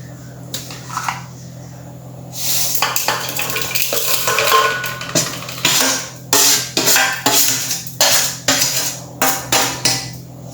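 Pork vindaloo ingredients (chili, sugar, salt) being mixed in a pan for a Goan-style dish: loud, close scraping strokes, quickly repeated, most rhythmic in the second half.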